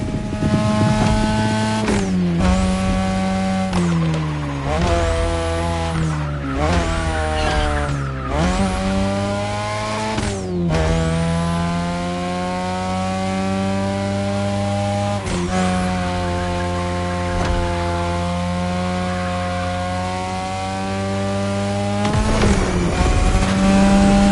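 Japanese street race cars in The Crew Motorfest roar close and loud on a mountain touge run, engines revving up and down through repeated gear shifts with brief tire squeal, no talk.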